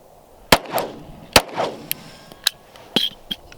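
Several sharp gunshots from an XD-S Mod 2 9mm pistol fired one-handed crack out at uneven intervals, loud and close, each followed by a short ringing echo and small clinks of brass.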